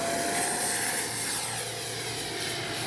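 A FlyFans K-8 Red Falcon 6S radio-controlled jet taking off into the wind without flaps: a loud, steady whining roar of the ducted fan, close by and continuous, with a thin rising tone.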